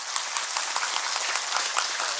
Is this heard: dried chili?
no